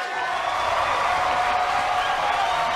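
Dense, steady applause and crowd noise from a studio audience on a televised variety show, a continuous even wash of clapping with faint cheering, held at constant loudness throughout.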